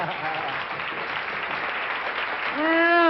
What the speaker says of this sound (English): How about a round of applause for Aldous?